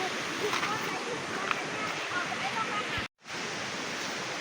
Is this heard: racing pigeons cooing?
no